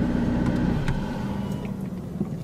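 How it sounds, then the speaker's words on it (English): A McLaren 675LT's engine idles with a deep, steady rumble that fades and drops in level toward the end as the car is switched off, with no talk. "Too much enjoyment, let's shut the car off."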